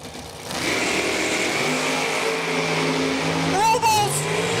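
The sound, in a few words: drag racing car engine revving at dragway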